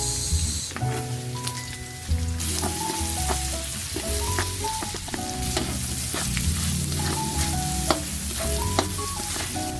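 Garlic and onion frying in oil in a pan for Ilocano pork igado, a steady close sizzle with scraping stirs and utensil clicks throughout, no talking.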